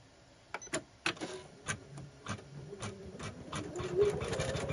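An embroidery machine stitching an initial in gold thread starts with scattered clicks, then settles into a rapid, steady mechanical stitching rhythm that grows louder.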